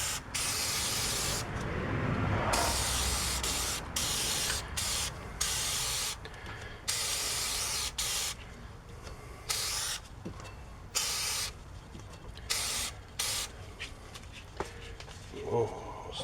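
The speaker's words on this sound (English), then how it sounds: "Now I'll put some fluid film on here just to maybe keep the rotor from sticking so bad" Fluid Film is sprayed from an aerosol can onto the rear brake rotor of a 2007 Chevy Impala, a series of close hissing bursts of varying length separated by short pauses, with someone talking briefly.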